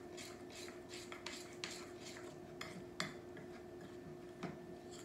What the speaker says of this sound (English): You are going to mix your buttermilk, cornbread mix, and your Jiffy mix, 1 1/2 cup